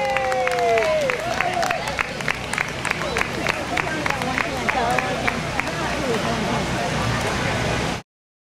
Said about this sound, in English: I want all of us to give her a warm applause as Joanne Wilkerson comes up and accepts her